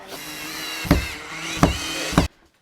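A power drill drives a screw into wood with a steady motor whine, three louder bursts where the screw bites, then a sudden stop, close and alone.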